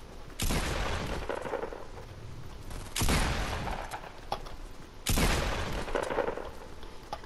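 Bursts of gunfire from the Fortnite video game arrive in three sharp, loud onsets spaced a couple of seconds apart, each trailing off into a noisy decaying tail, with no talking over them.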